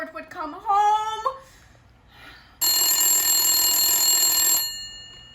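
A loud, old-style telephone bell rings in a sustained burst of about two seconds, following a brief voiced sound and a quiet pause.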